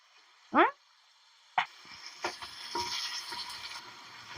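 Poha upma is being stirred and fried in a pan. A brief high chirp is followed by a knock, then a soft, continuous sizzle with light stirring scrapes.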